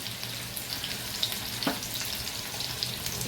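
Onion fries in a pre-heated tava over lowered gas, giving a soft, even crackling sizzle that runs throughout with faint spatters and a light scrape, fairly quiet and with no talk.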